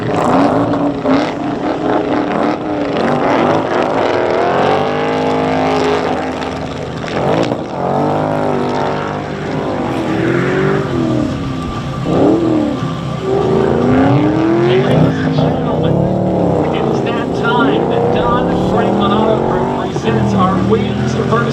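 At an air show, Kyle Fowler's Long EZ aircraft races two legacy Ford Mustang cars down a runway: engines and a propeller drone steadily and loudly throughout, while an announcer talks over them nearly the whole time.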